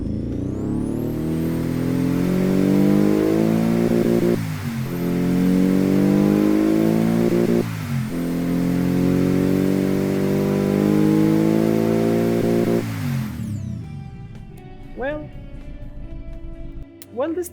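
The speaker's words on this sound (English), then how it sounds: "this thing sounds like a normal Boxer 4, like a really basic Boxer 4" A Subaru-style boxer four-cylinder engine with a quiet aftermarket exhaust revs repeatedly in long, smooth pulls with brief dips between them, then drops to idle and a few short blips near the end.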